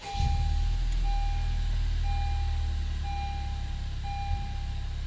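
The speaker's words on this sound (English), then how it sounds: "I'm going to start the car." A Honda Civic Type-R engine starts up, a low idle rumble settling in under a steady repeating beep, close and continuous throughout.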